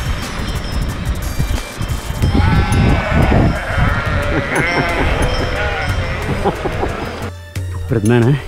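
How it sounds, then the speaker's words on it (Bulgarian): A sheep and a newborn lamb bleat repeatedly on a mountain trail in Central Balkan National Park, the wavering cries loud and close, mixed with a person talking nearby. "Пред мене има една овца с едно малко агънце"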